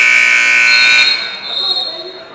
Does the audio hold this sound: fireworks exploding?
no